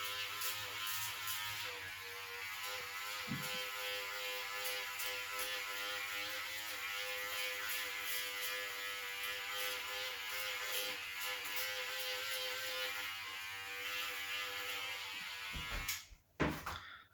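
An electric hair clipper buzzes continuously at close range during a home haircut, a steady whining drone with slight fluctuations, ending in a brief clatter as it is handled.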